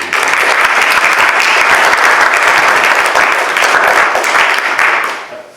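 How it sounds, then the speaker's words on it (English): A lecture audience gives a loud, sustained round of applause to welcome a speaker who raised hundreds of millions of pounds for charity. The clapping holds full and even, then tapers off in the final half second. "please give him a round of applause"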